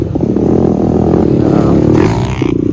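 An old Honda 250X motorcycle fitted with a non-factory twist throttle revs up loudly and close, a rising, rasping engine note with some clatter.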